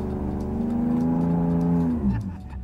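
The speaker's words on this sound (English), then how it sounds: "we're gonna do a little burnout in the field and throw the floor liners under the wheel" A Ford Raptor truck doing a burnout in a field with a floor liner under the wheel, its engine held at high revs in a loud droning roar that rises slightly, then drops off near the end.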